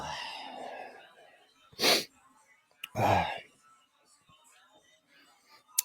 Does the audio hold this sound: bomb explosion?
no